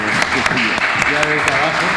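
An audience breaks into applause, with sharp individual claps standing out over a crowd murmur and voices talking through the brief burst.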